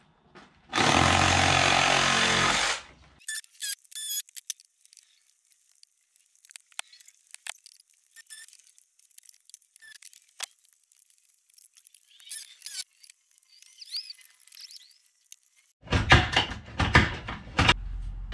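A power tool cuts into a wrecked Nissan Leaf battery, a loud grinding burst at the start and another near the end, separated by quiet clinks and handling of metal parts.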